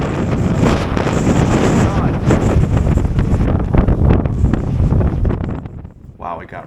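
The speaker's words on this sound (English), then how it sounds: "Wow, it got really windy here all of a sudden." Strong gusty wind on a street in Ikebukuro, Tokyo at night roars and buffets the microphone loudly and continuously, easing only in the final second.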